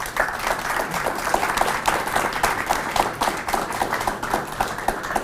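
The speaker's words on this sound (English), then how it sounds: "let's give them a round of applause" An audience applauds panelists at the close of a career and technical education panel discussion, steady dense clapping filling the room at moderate level with no break.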